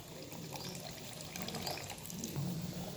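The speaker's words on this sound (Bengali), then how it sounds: "এবার আমি দিয়ে দিচ্ছি সর্ষে বাটার জলটা।" Mustard paste water poured into a pan of hilsa fish curry, a steady watery splash and trickle, fairly close, continuing for a few seconds with no talking.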